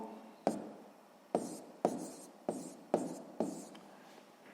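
A pen or pencil writes a math solution on paper in sharp, separate strokes, about seven quick scratches at a regular pace, close and fairly quiet, with no talk.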